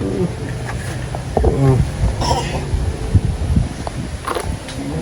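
A few rough coughs and throat-clearing sounds break out close by, mixed with a person talking and faint background noise.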